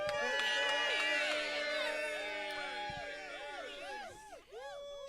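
Crowd cheering and whooping at an interfaith leaders' press conference endorsing Kamala Harris, loud and sustained with many overlapping shouting voices, easing slightly toward the end.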